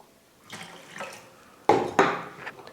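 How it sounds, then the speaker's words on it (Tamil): Water is poured into a metal pot holding crushed jaggery, heard as two sharp clatters followed by short splashing bursts, close and fairly quiet, with no talking. "இப்போ வெல்லத்து கூடவே 2 கிளாஸ் அளவுக்கு தண்ணி சேர்த்துக்கிறேன்."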